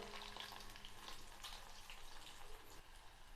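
Masala-coated nethili fish deep fry in oil with a dense, continuous crackling sizzle, steady and close throughout, with no one speaking.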